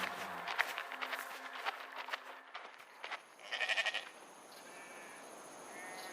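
Sheep bleating in a short series of calls, with a louder cluster of bleats near the end over a quiet outdoor background and faint footsteps.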